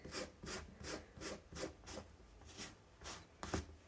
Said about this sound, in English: So let's try that bit of sanding.